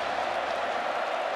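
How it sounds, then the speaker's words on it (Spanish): Steady, dense applause from a crowd at a farewell tribute event, sustained and even in loudness across the whole moment. "Fuerte el aplauso."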